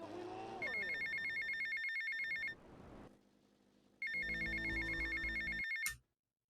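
Telephone ringing in GTA Vice City, a bright electronic trill that sounds in two long bursts with a brief gap and low rumble between, cutting off abruptly at the end.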